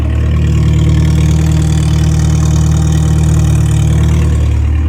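A small classic Morris Minor engine idles steadily and loudly up close, with a partial exhaust lacking its rear section, a smooth even rumble with a low throb that never changes pace.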